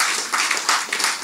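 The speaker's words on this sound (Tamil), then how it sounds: "ஒரு முறை கைதட்டுங்க" Audience applause at a Bharathiyar literary festival event, a dense continuous wash of many hands clapping that swells and pulses slightly, loud and close, with no talk over it.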